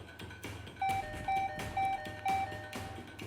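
A doorbell in the visual novel game Higurashi When They Cry Hou+ rings frantically, four quick electronic bing-bong chimes in a row over a low, rumbling background, clear and moderately loud.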